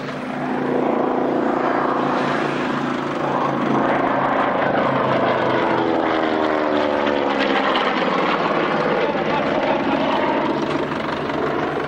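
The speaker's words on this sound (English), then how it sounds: "But just look as this aircraft flies by." A large propeller aircraft flies past at the 1999 North Weald Airshow, its loud, droning engines holding steady and then sliding down in pitch as it passes close by.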